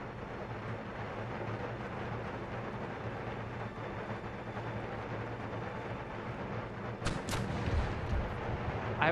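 Cannon and musket fire in an Empire: Total War battle, a dense, continuous rumble of distant artillery booms and gunfire, swelling with a louder close burst near the end.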